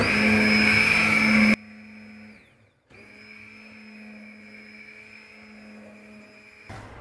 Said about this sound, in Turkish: Şimdi tekrardan blenderdan şöyle 2 dakika boyunca iyice çekeceğim.